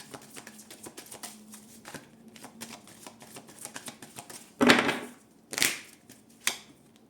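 A deck of tarot cards being handled and shuffled, with soft rapid flicking ticks at first, then several louder close riffles and snaps in short bursts.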